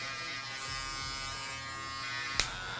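An electric foil shaver cuts hair during a textured mid-fade fauxhawk haircut, giving a steady close-up buzz throughout with one brief louder scrape near the end.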